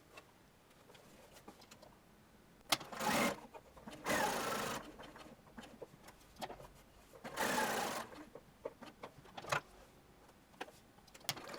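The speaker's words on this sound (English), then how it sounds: "Stay stitch just inside the seam allowance, as you don't want to risk it showing" A sewing machine stay stitches just inside the seam allowance around a shirtwaister dress bodice neckline, running in several short bursts of rapid stitching separated by quiet pauses.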